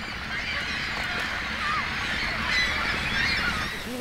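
Little terns call over a fishing lake in summer while nets are hauled, a flurry of overlapping high, sharp chattering cries at moderate distance over a steady low background rumble.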